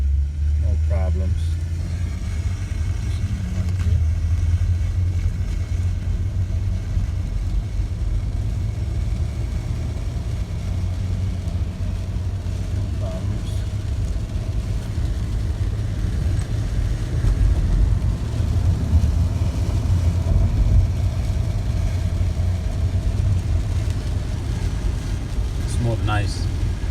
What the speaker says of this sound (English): I'm gonna let you see how the car shift. The car shift pretty smooth, no problems.